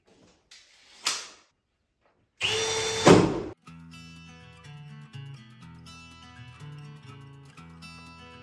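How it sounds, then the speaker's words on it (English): A power drill bores holes into a shiplap ceiling for kitchen lights: two short, sharp bursts of drilling, the second louder and longer, followed by quiet background music. "Gonna drill out for our lights in the kitchen"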